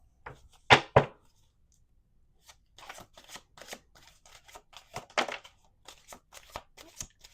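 Tarot cards are riffled and shuffled in quick bursts, two sharp riffles first, then a looser run of flicking, snapping card sounds at close range.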